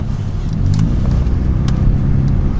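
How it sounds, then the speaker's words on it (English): BMW 440i with B58 engine and resonator delete, driven in sport mode, gives a steady loud engine drone with exhaust rumble throughout, close and continuous with brief sharper bursts. "And I'm going to switch it to manual sporting. Let the revs go higher."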